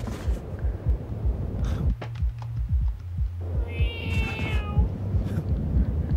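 A cat in a video game meows plaintively a few times over a low, throbbing background hum, with a short quieter gap midway.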